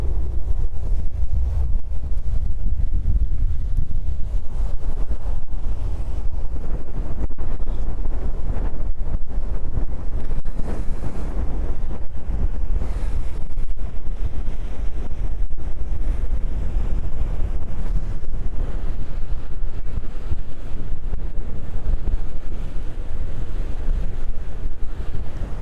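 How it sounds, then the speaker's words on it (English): Strong wind buffeting a microphone on a tripod at JFK airport, a continuous loud, low roaring rumble with gusty swells, no talk. "the wind is making the entire iPad shaking, and so the tripod was shaking"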